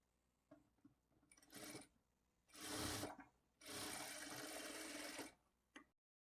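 A sewing machine stitching the shoulder seam of a blouse, three close bursts of whirring stitches, short then longer, separated by quiet pauses.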